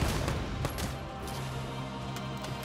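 A DLC rifle fires in Valkyria Chronicles 4 amid a battlefield fusillade, sharp gunshot bursts cracking over a rumbling, continuous combat din.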